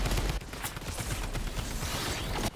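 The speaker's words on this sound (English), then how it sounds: "the drum gun sucks from such range" Rapid automatic gunfire from a drum gun in Fortnite, bursts of dense crackling shots running almost continuously with whooshing game effects in between, loud and close.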